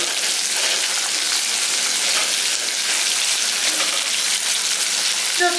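Chopped onions sizzle steadily in hot oil in a pan, a dense, even crackle that runs throughout with no voices.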